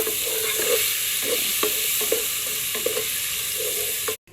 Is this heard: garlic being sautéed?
yes